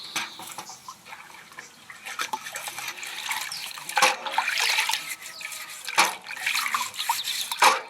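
A carved wooden shepherd's stick is washed with water and a brush: continuous splashing and running water with scrubbing, rising and falling in bursts at close range, with no talking.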